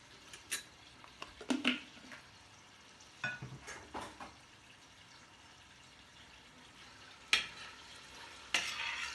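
Ginger garlic paste being stirred in hot oil for a Sindhi biryani, with a faint sizzle under scattered scraping and clinking strokes of a spoon against the pot, in bursts separated by quieter pauses.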